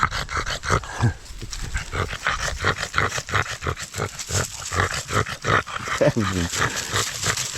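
Dogs drinking water in a forest make rough, rapid vocal sounds, growls and snorts close by in irregular bursts, with people talking intermittently in the background.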